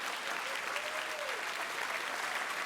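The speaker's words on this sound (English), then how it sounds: "Why are you applauding?" Studio audience applauding, a dense, steady wash of clapping at a moderate distance that holds evenly throughout, with a voice faintly audible beneath it.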